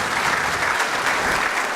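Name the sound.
audience applause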